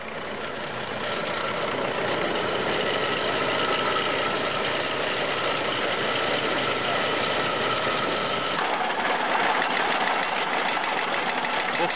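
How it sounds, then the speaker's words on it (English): An antique Minneapolis 2550 tractor, built around 1911 to 1914 with a four-cylinder upright engine, runs steadily and loudly close by, its dense mechanical churn continuing without a break and shifting slightly in tone near the end. "This is a Minneapolis 2550, built from roughly 1911 to 1914. It's a four-cylinder upright engine."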